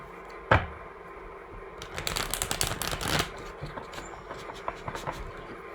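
Tarot cards being shuffled close up: a sharp snap, then a quick riffling burst, followed by a few softer taps and flicks.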